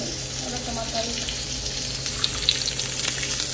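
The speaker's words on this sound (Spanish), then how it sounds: "Así que le vamos a echar aceite al tomate." Oil and tomato frying together in a pan make a steady, moderate sizzle, with a few faint clinks near the end.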